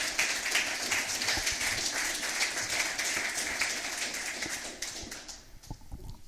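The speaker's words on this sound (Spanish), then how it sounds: "dale un aplauso al Señor" A church congregation applauds loudly in a sustained, dense wave of clapping that tapers slightly toward the end.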